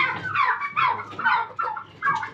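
Several loud gobbles from white turkeys in quick succession, warbling bursts close by, with a faint low background hum.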